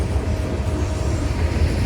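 Freight train with a mid-train CN DPU locomotive passing, a steady loud rumble of rolling wagons and engine drone with a faint high whine, no pauses.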